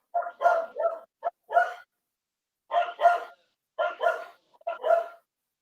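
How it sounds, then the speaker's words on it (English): A dog barks in several quick bursts of two to four yips and woofs separated by short pauses, moderately close with no talking. "It's just a dog."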